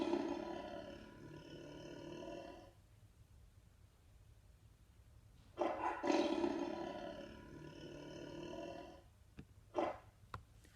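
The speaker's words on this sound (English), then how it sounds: "It was actually a lion." A lion roars in two deep, rumbling bouts separated by a short quiet gap, loud and close with no talking, followed by a few sharp clicks near the end.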